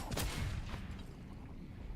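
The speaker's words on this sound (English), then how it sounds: "Cannon shot still flying on in." Cannon fire in the online battle royale game Naraka Bladepoint, a dense booming barrage of shots that peaks early and then rumbles on as a steady low roar.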